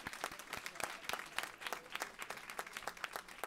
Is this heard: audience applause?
yes